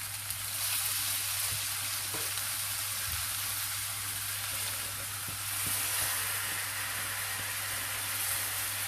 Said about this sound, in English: we're going to stir that through until all the oil has covered it and every little bit of rice has just been fried